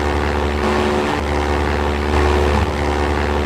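Wooden airplane droning through a Minecraft-style game world, a loud steady propeller-engine hum with a constant tone, dipping briefly and swelling again.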